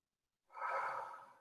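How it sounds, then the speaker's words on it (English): One slow, deep breath is drawn in through the nose, close and soft, and it swells then fades after a moment of silence. "Take 5 breaths."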